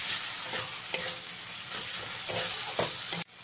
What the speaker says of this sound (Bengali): মিশিয়ে নিয়ে আবারও 1 থেকে 2 মিনিট আমি মশলাটাকে কষিয়ে নিই